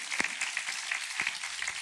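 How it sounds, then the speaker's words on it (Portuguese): A church congregation applauds during a sermon, heard as a faint, distant wash of clapping with a few sharper individual claps standing out. "Você pode aplaudir a Jesus."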